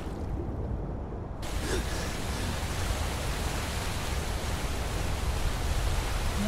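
A Skyrim waterfall roars as a dense, steady rush of broadband noise that swells to full strength after a brief quieter moment, with no voices.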